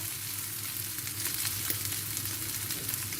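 Food roasting in a hot pan gives a continuous, close, fairly loud sizzle with faint stirring scrapes, heard alone without any talk.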